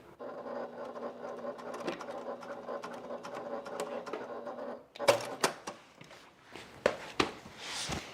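A sewing machine backstitches a seam on a faux leather bag, a steady run of close mechanical stitching that stops partway, followed by scattered handling knocks and thumps.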